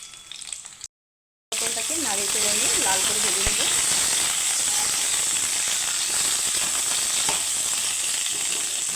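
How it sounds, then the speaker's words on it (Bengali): Pointed gourd (potol) fries in hot mustard oil with a loud, steady hiss and crackle that continues after a brief gap, with a voice heard faintly early on. "তেলটাকে গরম করে নিয়েছি আর আমি পটলগুলো ভেজে নেব"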